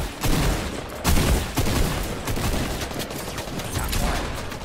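Video game gunfire, rapid bursts of shots rattling loudly and continuously, with sharp cracks standing out throughout the few seconds.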